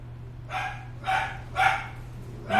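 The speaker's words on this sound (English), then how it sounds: "Why is that dog always bark here?" A dog barks in single barks, about four of them spaced roughly half a second apart, moderately close over a steady low hum, with no one talking.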